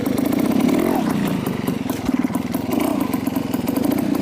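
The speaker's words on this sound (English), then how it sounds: "It might be very subtle to hear the RPM build up ahead of time instead of blipping it last minute." A motorcycle engine runs close and loud with a choppy, pulsing exhaust note, revs building and dipping briefly as the rider prepares to pop the clutch for a wheelie.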